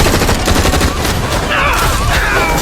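Automatic gunfire sprayed at police officers in a dramatic film action scene, a dense, loud fusillade of rapid shots with booming low-end impacts and no pause across the whole stretch.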